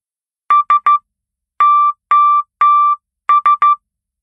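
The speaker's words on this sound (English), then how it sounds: "You can use sound or light to communicate in Morse code." Morse code SOS signal in clean electronic beeps: three short, three long, then three short tones, crisp and evenly spaced against silence, with no voices.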